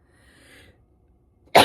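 A single sharp, loud sneeze bursts out at the very end after a stretch of near silence, close to the microphone.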